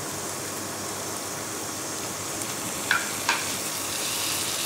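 Onion and green chilli sizzle steadily in a pan for poha, a constant soft frying hiss with a couple of brief clicks from stirring partway through.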